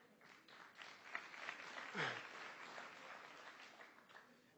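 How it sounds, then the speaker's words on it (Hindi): Audience applause at a motivational talk in Mumbai, a fairly soft, steady wash of many hands clapping from a hall crowd for a few seconds, with a brief voice rising through the middle. "ताली झूठ के लिए बजा रहे हैं या मेरे लिए?"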